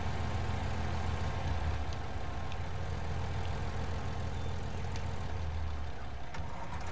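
A Massey Ferguson 3000 series tractor engine runs steadily in Farming Simulator 19, giving a low, even rumbling drone with no talk throughout.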